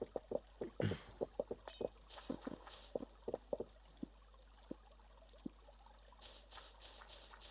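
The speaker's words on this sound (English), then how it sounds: "Where is coming from this sound of water?" Flowing water in the voxel video game Minetest, faint trickling and splashing with irregular clicks and drips, mostly quiet between soft bursts.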